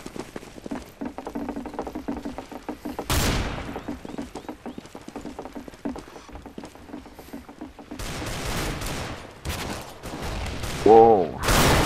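Nova pump-action shotgun in Counter-Strike: Global Offensive firing a few sharp blasts amid a busy multiplayer match, with footsteps and game noise throughout and people talking over it.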